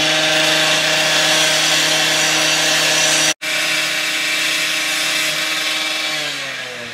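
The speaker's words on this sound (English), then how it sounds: "now this guy's coming along to trim it off." A power tool trims excess reinforcing steel overhanging the edge of a concrete driveway pour, a loud continuous whining grind that cuts out for an instant midway, then resumes and fades slightly toward the end.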